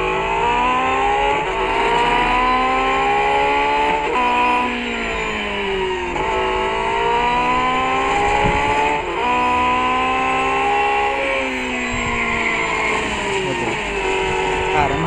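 A Porsche 918 Spyder Concept roars through a racing video game, its high-revving engine climbing and shifting in repeated sweeps at close range, loud and continuous, with a voice talking over it.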